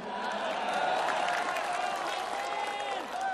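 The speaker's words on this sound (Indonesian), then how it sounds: "Tepuk tangannya dahsyat penuh rasa cinta." A political gathering crowd applauds and cheers for Gerindra chairman Prabowo, a continuous, moderately loud blend of clapping and voices that stays steady throughout.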